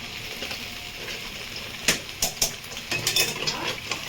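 Capsicum being tossed and stir-fried in a pan for chilli chicken fried rice gives a few close clinks and scrapes of utensil on pan over a low sizzle, clustered in the second half with no talk.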